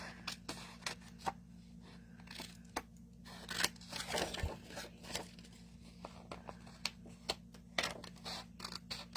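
Scissors trim extra edging off a scrapbook page kit, making a run of crisp, irregular snips and paper rustles close by over several seconds, with no one speaking.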